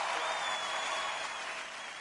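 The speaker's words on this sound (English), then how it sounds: "I want to give Surah a big round of applause." Brief burst of applause for a speaker at an online leadership learning session, a dense, fairly faint wash of clapping that holds steady for a couple of seconds.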